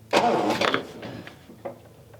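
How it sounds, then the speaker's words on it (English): A 1979 MG engine's starter cranks when 12 volts are sent to the starter relay wire, giving a loud opening burst followed by a few weaker, uneven churning bursts over about two seconds. "So I found out how to engage the starter"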